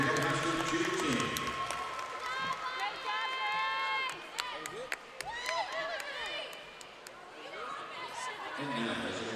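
A crowd at a high school girls basketball game cheers for the high school cheer team, with scattered clapping, chatter and shouts echoing through a gym, alongside footsteps and sneaker squeaks.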